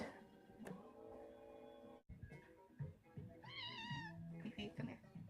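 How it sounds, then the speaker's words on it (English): A house cat meows several times, drawn-out and wavering, as it climbs into a cardboard box indoors. A quiet voice talks underneath the cries. "there's a box right here and my cat is climbing into it."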